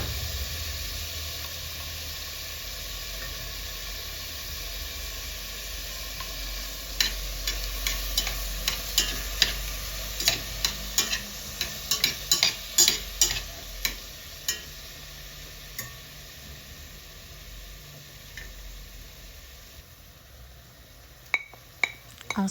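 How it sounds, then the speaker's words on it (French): Kimchi simmering in a pan with its juice and added water: a soft, steady sizzle and bubbling hiss with a run of light clinks and scrapes of a utensil stirring against the pan through the middle, no voices. "Ensuite, rajouter le jus du kimchi et faire mijoter en rajoutant de l'eau."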